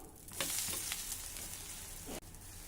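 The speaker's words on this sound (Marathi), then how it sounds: "यावर थोडं तेल घालूया आणि हळूच आता याची बाजू आपण पलटून घेऊ" Edani, a thick rice-flour flatbread, sizzles with oil on a hot tava griddle as it is flipped, giving a close, steady hiss with a few scraping clicks of the spatula and a brief dip near the end.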